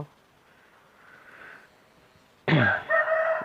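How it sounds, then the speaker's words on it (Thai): A rooster crows loudly and close by in the second half, a long harsh call that follows a faint murmur and near-quiet stretch. "ไก่ขันบ่อยๆ"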